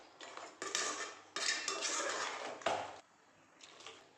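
A lid set onto a pot of crab gravy on a stove, with a few close metallic clanks and scraping rattles followed by a softer clink, fairly quiet and with no talking.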